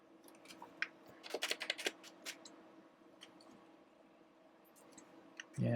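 Quick bursts of typing on a computer keyboard, a cluster of clicking keystrokes followed by a few scattered taps, moderately close with no talk, ending in a sudden louder thump.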